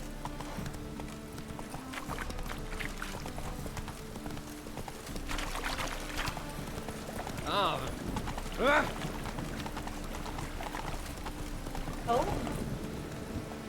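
Horse galloping in the video game The Witcher 3, rapid rhythmic hoofbeats running steadily underneath game music, with someone speaking briefly over it.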